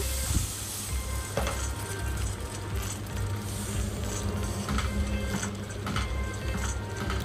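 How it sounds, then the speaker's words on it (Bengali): Pointed gourd fries in a pan after water is added, giving a steady, close hiss and sizzle with intermittent scraping stirs of a spatula and no talking. "জল দিয়ে এইভাবে একটু নাড়িয়ে নিতে হবে"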